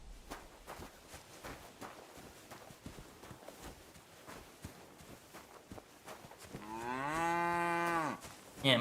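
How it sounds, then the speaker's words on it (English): A cow moos in the video game Kingdom Come: Deliverance II, one long drawn-out low call near the end, after a stretch of footsteps and faint hoof clip-clop with no talking. "I heard a cow and I had to go investigate."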